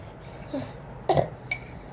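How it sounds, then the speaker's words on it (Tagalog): A single short cough bursts out near the middle, followed by a smaller throat sound, against a quiet background. "inuubo kasi ako"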